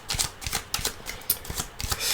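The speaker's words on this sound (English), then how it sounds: "I'm gonna give these cards a shuffle." Rider-Waite tarot cards being shuffled by hand, with a quick series of close, soft riffling and slapping bursts in an uneven rhythm, no voices.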